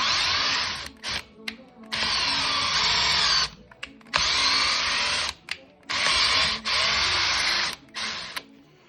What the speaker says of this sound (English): now we're just gonna drill our manhole through the 2 pucks